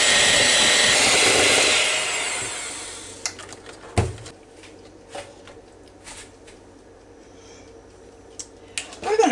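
An electric mixer whirs loudly through banana pudding pie filling for about three seconds and then cuts off, leaving scattered soft clinks and knocks of the bowl and utensils.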